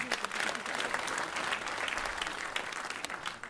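Sustained applause from an audience at a school awards gala, a dense steady patter of many hands clapping, fairly loud and continuous throughout with no talking over it.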